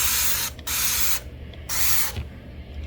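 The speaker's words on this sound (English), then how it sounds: "Let's spray it down with this Dawn Power Wash and see if that stain will come out." Dawn Power Wash sprayed onto a stained Tupperware bowl in a home kitchen, three bursts of close, hissing spray separated by brief pauses, with no talking.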